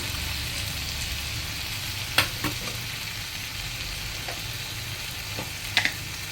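Ground coriander and chili powder frying on a high flame with potatoes and snake gourd, a steady loud sizzle with occasional clinks of a spoon stirring against the pan; no voices.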